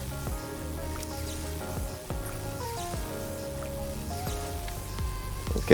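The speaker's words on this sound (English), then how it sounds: "The electric sound is still here, so that's a bug." Buggy electric sound effect in GODDESS OF VICTORY: NIKKE, a faint crackling, dripping texture under layered game music with pinging tones and soft thuds, fairly quiet throughout.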